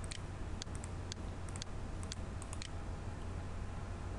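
A single word is typed on a computer keyboard as a short run of crisp, close key clicks in an uneven rhythm, followed by a pause over a steady background hum, with no talking.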